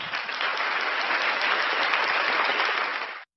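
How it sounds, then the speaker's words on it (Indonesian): Steady, dense applause from a room crowd fills about three seconds at an even level, then stops abruptly. "Tepuk tangan dulu."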